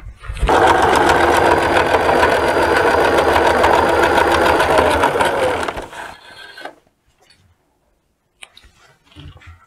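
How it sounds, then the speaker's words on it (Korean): A sewing machine stitches the back panel of a denim skirt in one loud, even run of rapid needle chatter for about six seconds, then stops, leaving a few faint clicks and handling noises. "이제 뒷판 이어놓은데 다시 스티치 치기로 하겠습니다"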